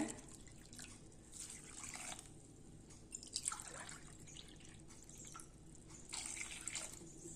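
Water splashing and trickling into a cooking pot, a continuous close pour with a few louder gushes.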